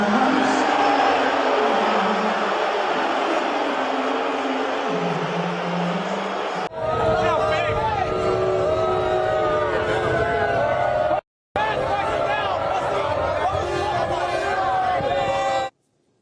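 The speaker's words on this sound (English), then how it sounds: "Donald Trump being lustily booed when he arrived at the venue tonight in New York." Crowd at a New York venue booing Donald Trump on his arrival, a loud sustained roar of many voices from a large audience that continues across several cuts, with a voice speaking over it.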